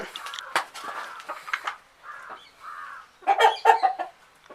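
Several hens cluck and chatter nearby in a low-cost chicken cage in short bursts, with louder, busier clucking near the end.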